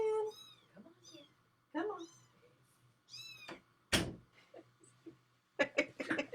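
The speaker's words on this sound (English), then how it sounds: "We have a kitten stuck in another room. It's crying." A kitten shut in another room cries with repeated plaintive meows, some rising and drawn out, heard alongside a knock or thump and a person speaking briefly.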